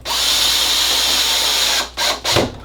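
A power drill drives a screw into the cover of an electrical box while wiring an exterior Rinnai tankless water heater. A loud, steady whir runs for nearly two seconds, then two short, close bursts follow.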